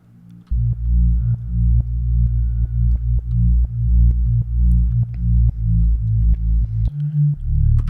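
Distorted synth bass built in Bitwig for a future garage track, layered with chorus and reverb; a loud, thick low-end line pulses in steady repeated notes with short clicks on top, no voices.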